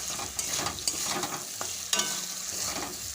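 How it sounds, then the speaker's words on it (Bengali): Potato pieces sauté in oil and spices for a rupchanda pomfret fish curry, a steady hot sizzle broken by a few sharp spatula scrapes and knocks against the pan, close and loud. "এবার এই আলুটা দিয়ে বেশ কিছুক্ষণ অনেকটাই সময় নিয়ে কষিয়ে নেব"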